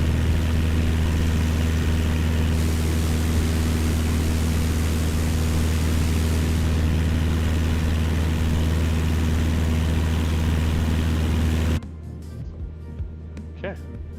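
Steady, loud drone of a Cessna 172S engine and propeller in cruise near 2,400 RPM in a flight simulator, holding even for about twelve seconds before cutting to a quieter interior hum.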